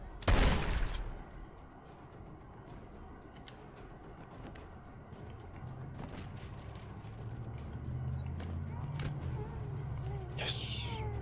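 Gunfire from an enemy guard in Batman: Arkham Asylum, a loud burst at the start, then scattered shots and clatter over low game ambience and rumble.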